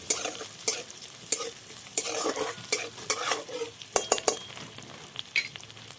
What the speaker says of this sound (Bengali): এগুলো দিয়ে একটু নাড়াচাড়া করলাম করে একটু একটু ভাজা ভাজা হবে